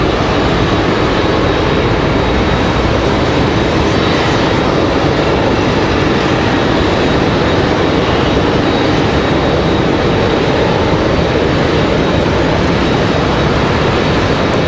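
Copa Airlines airliner departing Raleigh-Durham airport, a loud, continuous broadband jet engine roar that holds steady throughout with no voices.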